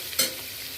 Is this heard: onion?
yes